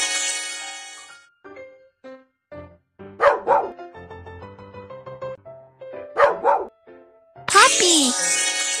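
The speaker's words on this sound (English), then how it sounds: "Puppy." A cartoon puppy in a Baby Bus children's video game gives a few short, bright barks, mixed in with game music and a voice.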